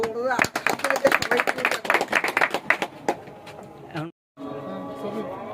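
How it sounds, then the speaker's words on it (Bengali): Audience at a pigeon racing tournament claps in a burst of sharp, dense handclaps over a raised voice, thinning out before a brief silence and continued talk. "সবাই হাততালি"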